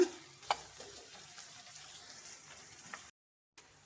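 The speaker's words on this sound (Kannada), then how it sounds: "ಮೀಡಿಯಮ್ ಉರಿಲೇ ಇಟ್ಟು ಫ್ರೈ ಮಾಡಬೇಕು, ಇಲ್ಲಾಂದ್ರೆ ಸೀದ್ ಬಿಡುತ್ತೆ" Cashew pieces fry in a pan over a medium flame, giving a faint, soft sizzle with a few light clicks of stirring before a short drop to silence.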